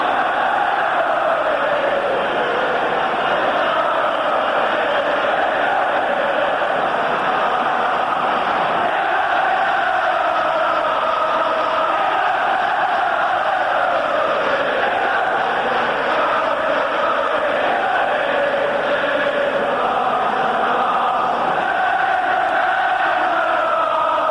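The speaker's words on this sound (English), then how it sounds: "The appreciation of the crowd as music in their ears." A large football stadium crowd at an England versus Argentina international friendly roaring in appreciation, a loud, continuous wash of cheering and shouting that swells and holds for the whole stretch.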